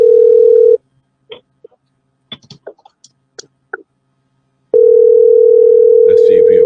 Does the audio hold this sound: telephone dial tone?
yes